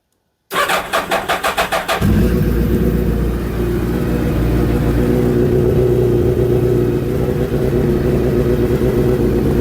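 A Suzuki Hayabusa fitted with a straight-through exhaust pipe cranks with a quick pulsing starter rattle, then fires and settles into a loud, rough, steady idle rumble, heard up close with no voices.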